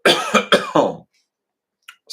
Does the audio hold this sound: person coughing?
yes